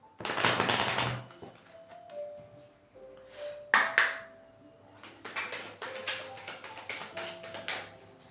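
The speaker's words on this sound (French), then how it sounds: "Je vais tirer les cartes pour faire de la place." Petit Lenormand cards drawn and laid out during a Friday reading, with soft broadband rustles and slaps against faint background music tones, a sharp tap near the middle, then more scattered handling sounds.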